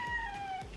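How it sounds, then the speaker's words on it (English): A kitten gives a single thin, high-pitched meow, faint and brief against a quiet indoor background. "If you hear meowing, that is my kitten begging me for attention."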